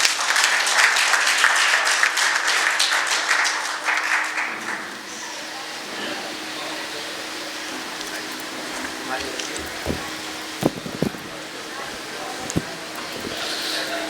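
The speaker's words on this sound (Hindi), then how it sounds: "आप चाय पीते हुए तालियां बजाकर" A crowd at a Hindi poetry festival claps in a dense burst to welcome a poet for about four seconds, then the applause fades into quiet room ambience with a few scattered knocks and clicks.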